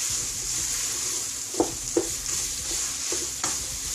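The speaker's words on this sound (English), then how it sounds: "celery, and mix that around." Celery and onions sizzle steadily in a pan for an Italian sausage, kale and lentil soup, with a few sharp scraping clicks as a utensil stirs them. No one speaks.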